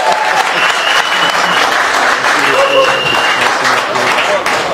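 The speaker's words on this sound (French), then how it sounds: "que je vais vous demander d'applaudir encore très fort, s'il vous plaît" A Paris audience at an album launch for a singer claps loudly and steadily, a dense sustained wash of applause from a crowd with some voices mixed underneath.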